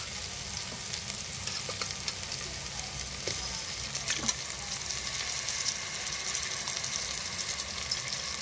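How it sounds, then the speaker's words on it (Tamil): Mutton pieces fry in masala for a potato mutton gravy, giving a steady, close sizzle with occasional stirring scrapes throughout, and no voices. "இப்போ இந்த ஸ்டேஜில் மட்டன் பீசஸ் ஆட் பண்ணிக்கலாம்."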